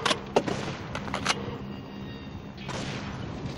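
Sniper rifle shots in a mobile first-person shooter game, a few sharp bursts in quick succession near the start, followed by steady background game noise.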